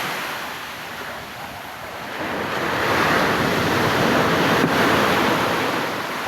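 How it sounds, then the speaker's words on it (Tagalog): Big sea waves crash and surge onto a shore in a loud, continuous roar that builds midway, with wind buffeting the microphone throughout. "Malakas yung alon."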